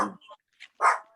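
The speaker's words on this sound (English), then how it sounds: "Our dog's yelling." A pet dog barks and yips indoors during a home video call, a few short sharp barks close by, with one longer bark near the end.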